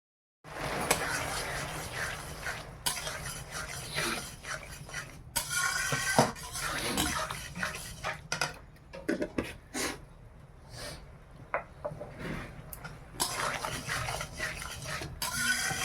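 Chutney cooking in a pan is stirred with a utensil, giving a run of close scraping and clattering strokes in uneven bursts with short pauses, and no one speaks.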